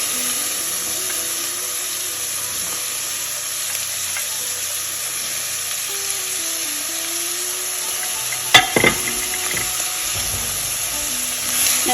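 Vegetables fry in a pan for an Indian or Indo-Chinese dish, giving a steady, close sizzle that runs throughout, with a brief clatter of stirring near the end.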